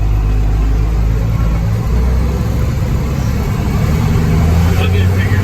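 An old International tractor with no power steering is driven along a farm driveway, its engine a steady, loud, low rumble throughout, with a voice talking over it.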